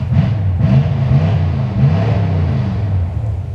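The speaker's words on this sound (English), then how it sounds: "That old Dodge truck over there is what's making all that noise." An old Dodge truck engine rumbles steadily and close by with a low, uneven idle throughout, with no voices over it.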